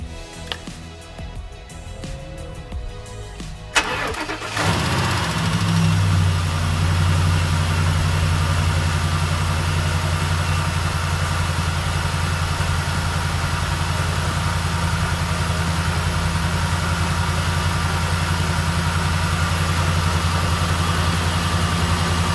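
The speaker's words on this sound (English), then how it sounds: "start the engine here in just a few seconds for 10 seconds" A Ford SVT Raptor truck engine cranks and fires after a few seconds of quiet background, then settles into a loud, steady close-up idle with a constant low rumble.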